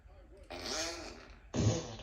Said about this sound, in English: Alexa, fart.